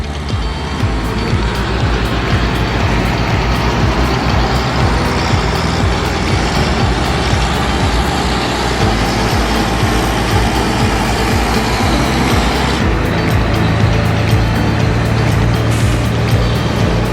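A convoy of trailer trucks moving slowly at about 20 km/h gives a continuous loud engine roar and road rumble, steady and close throughout with no talk.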